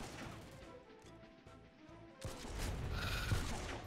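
Sniper fire in a video game arrives as a sudden sharp crack partway through, followed by a loud crashing roar that fills the rest of the moment, after a quieter stretch of game sounds.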